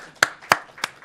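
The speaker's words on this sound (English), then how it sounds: "Let's give Al a round of applause." Three sharp, separate hand claps ring out close by, evenly spaced in a sparse, quiet room, for Al at Governor Cuomo's COVID-19 briefing.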